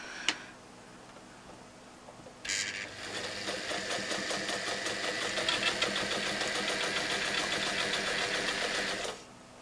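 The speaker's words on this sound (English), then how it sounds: "what I'm doing first of all is just sewing that square." A home sewing machine with a normal foot, stitch length about 1.5 and feed dogs up sews a square for a fabric canning mat, a steady rapid whirring run starting after a short click and going on for several seconds.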